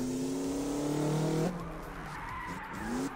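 A Toyota Corolla drifting in CarX Drift Racing 2, its engine revving with a rising whine while the tires skid and squeal loudly, the pitch dropping abruptly midway as the slide continues.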